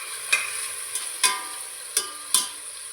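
Carrots, beans, potato and green chillies frying over softened tomatoes in a pan for veg biryani, a steady sizzle broken by five sharp scraping stirs of a spoon at uneven intervals, close up with no talk.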